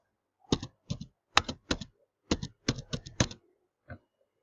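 Keystrokes on a computer keyboard while entering subject names into an Excel spreadsheet, close and clear: short bursts of clicky taps in quick clusters, then a lone final tap after a brief pause, with no talking.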